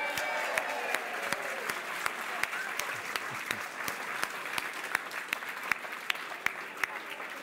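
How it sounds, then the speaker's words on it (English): Audience applause at a charity auction of painted baron sculptures in Lincoln: a sustained round of clapping from a sizeable crowd, with sharp individual claps standing out near the microphone and steady energy throughout. "a big round of applause, please, for the Burton Road Chippy"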